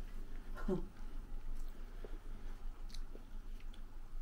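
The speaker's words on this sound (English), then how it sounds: "I'm going to try my chips and curry then." A bite into frozen chips and curry, with one soft, close crunch and squish near the start, then quieter chewing. A low background hum sits under the chewing.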